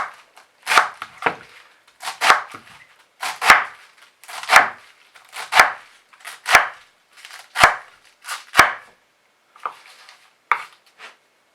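A knife chops vegetables into half-centimetre slices for a hearty vegan stew, about a dozen crisp, close board strikes in an uneven rhythm with short pauses, no talking.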